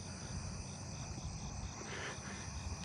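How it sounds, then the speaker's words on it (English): A Japanese burrowing cricket sings outdoors at night, a steady continuous insect drone over a dense background chorus of other crickets and katydids, moderately faint and unbroken throughout. "There's the Japanese burrowing cricket again that I heard."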